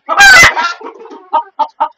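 A loud squawk bursts out first from Kadaknath chickens on a rooftop garden, followed by a few short, clipped clucks spaced out in the quiet after it.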